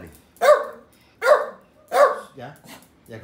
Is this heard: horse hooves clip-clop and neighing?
no